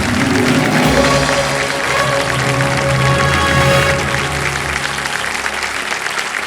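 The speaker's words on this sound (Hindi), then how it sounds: "ताली क्यों बज रही है?" Studio audience on a TV quiz show bursts into loud, sustained applause after a correct answer, a dense continuous clapping that holds steady and eases slightly toward the end.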